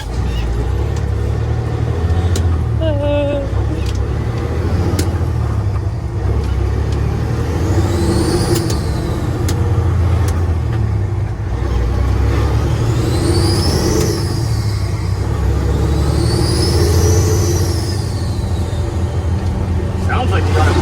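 A vehicle engine runs steadily with a turbo boost leak, a constant close rumble with recurring rising and falling whooshing whistles, while people talk over it.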